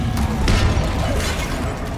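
Forceful magical blast of the Depulso spell in Hogwarts Legacy, a loud, dense burst with shattering, crackling texture amid ongoing game combat noise.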